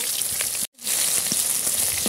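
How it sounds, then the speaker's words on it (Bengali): Fish pieces frying in oil in a pan, a dense close sizzle with scattered pops, broken by a brief silent gap early on before resuming. "মাছগুলো এক পাশ উল্টে দিয়েছি, ভালো করে মাছগুলো ভেজে নেব"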